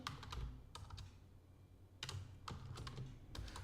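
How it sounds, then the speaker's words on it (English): Quiet clicking of computer keys in short bursts, typing close by with brief pauses between runs of keystrokes. "Sorry for my bad typing."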